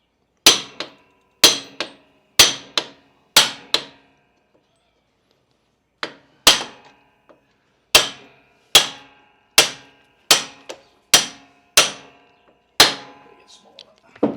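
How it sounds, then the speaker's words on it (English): A hammer strikes a brass rod again and again in sharp ringing blows while fitting new Isolastics on a 1975 Norton motorcycle, in two bursts separated by a short pause, loud and close. "using a brass rod with the hammer, not hammering on the threads with the hammer"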